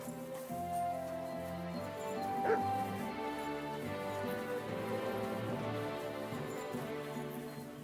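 A dog barks and whimpers with short yips in Kingdom Come: Deliverance II. The sounds are close and a little muffled, set against layered game music and ambience.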